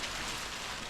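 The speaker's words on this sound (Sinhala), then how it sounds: "හොඳටම වහිනවා." Heavy rain falling in the cold on the climb up Adams Peak in Sri Lanka, a brief, faint, steady hiss with no voices.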